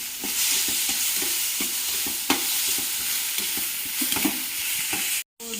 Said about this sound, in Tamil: பச்சை வடை போகிற வரைக்கும் நல்லா வதக்கிக்குவோம்